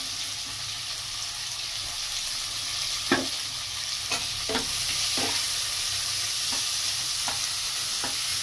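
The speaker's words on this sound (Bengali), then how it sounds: "পেঁয়াজকে খুব বেশি বেরেস্তার মতন ডিপ ফ্রাই করব না, হালকা বাদামি করে ফ্রাই করে নেব" Two medium sliced onions frying in hot oil, a constant even sizzle with occasional sharp taps and scrapes of a spoon against the pan.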